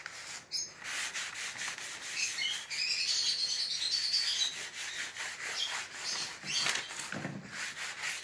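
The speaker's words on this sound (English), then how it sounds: "I just use my nail to kind of scrape along these edges where I know the Vaseline is" A fingernail scrapes dried Vaseline along the edges of a wooden shelf, giving a steady, close, dry rubbing and scratching that runs almost without pause, with faint chirps in the background.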